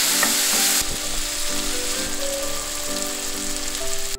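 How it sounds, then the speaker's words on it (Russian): Meat frying in a pan for a quick Korean dish gives a loud, steady sizzle with crackling spatters that runs unbroken from start to finish. No voices are heard. "Давайте пожарим мясо."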